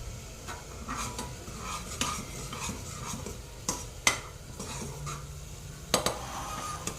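Masala with sweetcorn and capsicum sautés in a pan under a soft, steady sizzle. A spoon stirs and scrapes it in irregular strokes, with a few sharper clinks against the metal close by and no talking.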